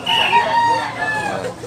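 A single close, loud crow comes from a one-year-old brown grey rooster with yellow legs. The cock-a-doodle-doo stretches across the moment and trails off, with no talk over it.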